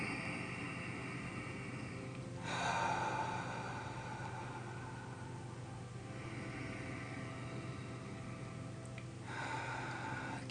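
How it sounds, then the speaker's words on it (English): Deep breathing during a guided breathing exercise, with slow, long inhalations and exhalations rising and falling as soft airy noise, close but fairly faint over a steady background hiss. "So let's keep breathing."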